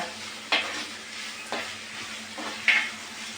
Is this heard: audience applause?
no